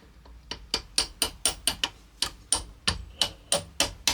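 Repeated sharp taps of a small hammer on a milling machine's metal pinion gear, evenly spaced and close, about fifteen ringing strikes in a steady rhythm.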